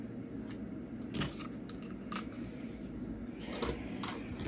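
Scissors snip through quilt fabric in a series of soft, close cuts, irregularly spaced and fairly quiet over a low background hum.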